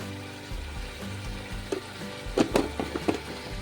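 Food sautés in a hot pan with turmeric during home cooking for a Poush festival meal, a soft steady sizzle broken by a few louder scraping stirs toward the end.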